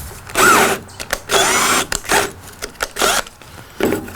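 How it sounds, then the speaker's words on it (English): A cordless drill drills out parts of a Mortal Kombat II arcade cabinet during stripping, sounding in several loud whirring bursts, each about half a second to a second long, separated by short pauses and clicks. "So let's go ahead and drill all these out."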